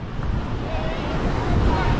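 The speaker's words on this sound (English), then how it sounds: "The waves are a bit rough, but look how clean and nice this place is." Rough ocean waves wash onto a clean Sri Lanka beach, a steady broadband roar with heavy wind buffeting the microphone and no clear breaks between surges.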